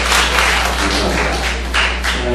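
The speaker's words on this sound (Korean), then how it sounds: "다시 한번 하나님께 영광의 박수 올려드리겠습니다" A youth church congregation gives a vigorous round of applause after a hymn: loud, close, sustained clapping over a low constant hum from the hall's sound system.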